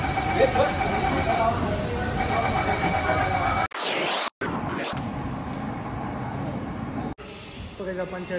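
An underground train on Mumbai's Aqua Line metro (Aarey–BKC) rumbles along with a steady roar, wheels squealing and brief dropouts, while a voice speaks over the noise.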